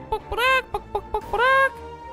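A hen clucks close by in a quick irregular series, short clucks broken by two longer drawn-out squawking calls, loud and clear with little else around.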